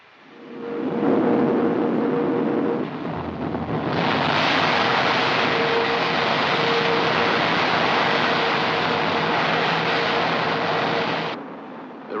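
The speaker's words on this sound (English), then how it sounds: "The rocket is now 20 miles up." Sustained broadband rocket takeoff roar from a 1953 film, loud and continuous, swelling to full intensity after a few seconds and cutting off abruptly near the end, with no voices over it.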